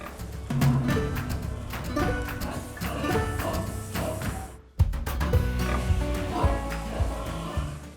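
Native Polish pig breeds, including Puławska and Złotnicka, grunt and snuffle close by in a farm setting, a busy run of overlapping oinks with a brief drop in sound midway before the grunting resumes.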